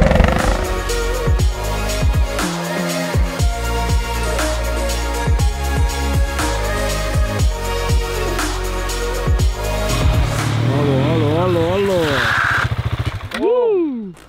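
Supermoto motorcycle engine revving hard during drift runs, loud and close, with repeated rising and falling throttle sweeps, ending in sharp high revs and a cutoff.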